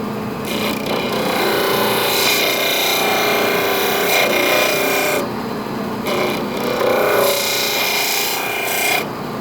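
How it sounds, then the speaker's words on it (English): A Dremel rotary tool grinds a concave finger-grip radius into a knife handle, a steady close rasping whine with brief pauses around five and seven seconds, no talking. "I'm going to be working with the Dremel to get this honed out in the radius"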